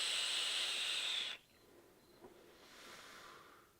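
A loud, bright hiss of a vape coil on a mesh RDA for about a second, then cutting off to a faint low sizzle fading away.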